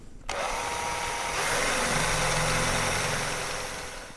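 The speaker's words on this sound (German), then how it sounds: "Deswegen wird einfach mit einem größeren Bohrer hinterher gesenkt, dass die Schraubenköpfe ganz am Ende wirklich auch plan in der Fläche verschwinden." A power drill fitted with a larger bit countersinks screw holes in a small wooden board for a yew longbow handle; the motor whines steadily and close for several seconds, then winds down.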